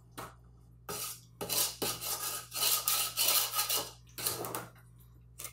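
Plum orange freezer jam being stirred with instant pectin, a utensil scraping and rubbing against the sides of a bowl in a run of loud, irregular close strokes with short pauses between.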